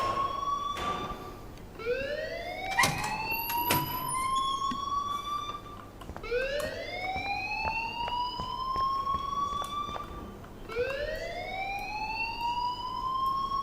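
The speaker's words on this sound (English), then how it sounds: "please turn off that alarm since that's your job" A fire alarm in the Life is Strange video game wails in loud rising sweeps that repeat roughly every four seconds, steady and close, with no voices over it.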